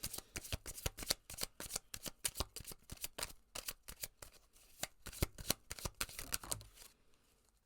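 Tarot cards are shuffled in a rapid series of riffling, flapping bursts, close and fairly loud, before the motion trails off near the end with no speech.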